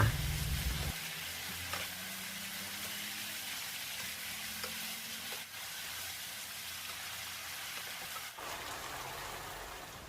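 Steady oil sizzle from a hot pan, broad and continuous, with a few soft clanks of stirring near the start and end.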